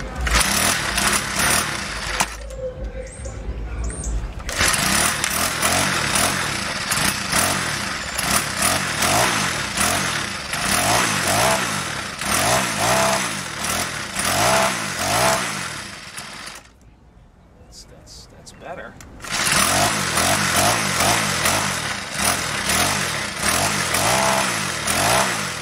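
Troy-Bilt TB516 EC small gas engine running with a loud, buzzy, close drone that rises and dips with throttle, cutting out briefly twice before roaring back.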